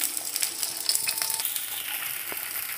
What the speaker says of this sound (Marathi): तेलामध्ये आपल्याला भेंडी अशी थोडी फ्राय करून घ्यायची आहे